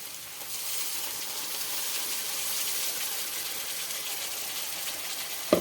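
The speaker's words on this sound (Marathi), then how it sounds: "आपण जे वाटण तयार करून घेतलेलं होतं ते वाटण घालायचं आहे" Ground spice paste hitting hot oil with cooking papaya, a steady broadband sizzle and hiss lasting throughout, close and fairly loud, with a brief clatter at the very end.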